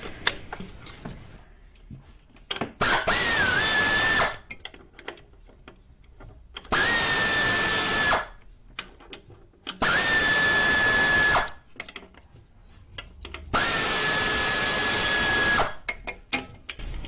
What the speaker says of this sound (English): loosening off the torque converter bolts